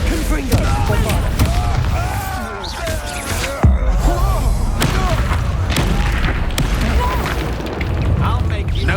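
Hogwarts Legacy spell combat on PS5 pairs booming Confringo and Bombarda blasts with bursts and thuds, set under a constant stream of shouted spell incantations and battle noise.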